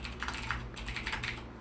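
Typing on a computer keyboard, a quick run of light clicking keystrokes in an irregular rhythm, close and fairly quiet, with no voice over it.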